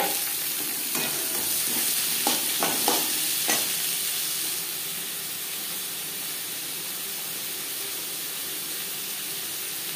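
Onion and tomato tossed into fresh oil in a wok, used earlier for frying small fish: a loud, dense sizzle with a few stirring knocks early on, then a steady hiss continuing alone.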